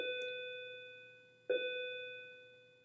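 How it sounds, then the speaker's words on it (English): A school bell chimes twice, each a clear sustained electronic tone that rings out and slowly decays, the second strike about a second and a half after the first, heard alone and fairly soft. "that's the bell to let you know school's out"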